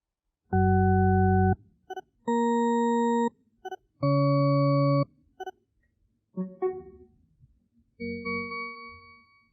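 Several sustained electronic tones from the noise-cancelling optimizer of Sony WH-1000XM2 headphones sound one after another, followed by a short rising chirp and a softer fading tone, with no voices.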